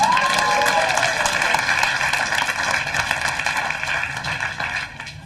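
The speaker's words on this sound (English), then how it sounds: "Give him a round of applause." Loud, sustained applause from an audience at a stand-up comedy show: dense, steady clapping that fills the room and slowly thins toward the end, with no talking over it.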